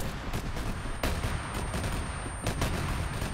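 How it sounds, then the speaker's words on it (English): Rocket launches and heavy weapon fire in a military simulation video game, a dense loud barrage of blasts and booms at irregular intervals without speech. "Rocket, rocket, rocket."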